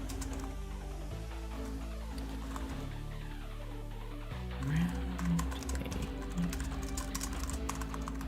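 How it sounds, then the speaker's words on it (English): Computer keyboard typing during a study session, quiet soft key clicks scattered under a steady background hum and soft music-like tones, with no speech. "I'm gonna be very quiet because I've been typing a lot."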